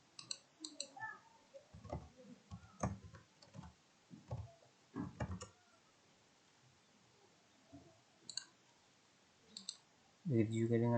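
Sharp computer mouse clicks arrive in scattered bursts, some doubled, during a session configuring server and PC settings in network simulation software, with quiet stretches between and a louder thud at the very end.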